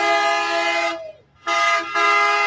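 Truck horns blare at a protest in front of Parliament in Ottawa at night, a loud sustained chord that drops out briefly, then resumes with a short blast before continuing.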